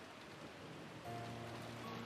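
A rain and wind sound effect from the Umineko visual novel gives a faint, steady patter of rain with a low drone that rises a little partway through.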